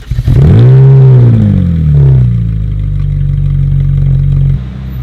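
A car engine revving hard close by, then settling into a loud steady drone as the car drives into a car park, with a clattering rattle near the end and no talk.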